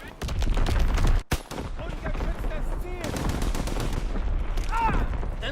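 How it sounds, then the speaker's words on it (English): Artillery barrages and gunfire in the World War II shooter Call of Duty WW2, with sharp repeated blasts, one heavy boom early on, and ongoing battle clatter under in-game voice callouts. "Incoming enemy artillery."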